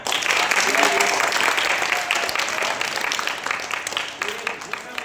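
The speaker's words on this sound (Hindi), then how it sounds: "एक बार जोरदार तालियां" A crowd at a public gathering for Dr. B.R. Ambedkar's birthday breaks into loud, sustained applause that thins toward the end, with scattered voices mixed in.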